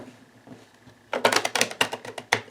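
A deck of cards is riffled and shuffled close up, a fast burst of crisp flapping clicks after a quiet lead-in, repeated in quick bursts.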